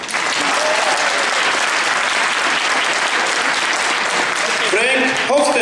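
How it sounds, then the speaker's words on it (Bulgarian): Loud applause from a conference audience at a company launch presentation fills the scene steadily, a dense wash of clapping with a few voices rising near the end. "Громкие аплодисменты."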